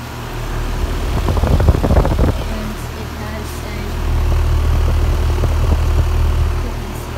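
Low steady hum and whoosh of a Carrier Smart Comfort 2-ton heat pump outdoor unit fan running in a residential neighborhood, with a person talking over it partway through.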